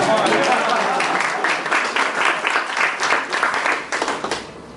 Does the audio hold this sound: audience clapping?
yes